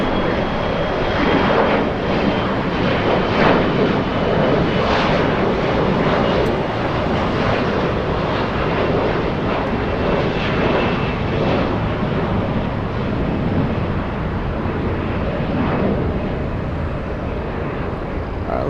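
An Air Premia airliner at Los Angeles International Airport, its engines giving a loud, steady roar that fills the whole stretch without letup, with no voices.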